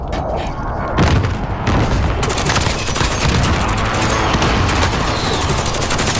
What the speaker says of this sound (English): One C4 and they're gone.